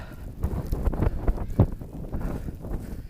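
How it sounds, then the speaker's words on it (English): Strong wind gusts during a 2015 Boston blizzard buffet the microphone on a snowy city street, with uneven, rumbling surges and bursts that rise and fall in quick succession. "Whoa, now the wind's really picking up."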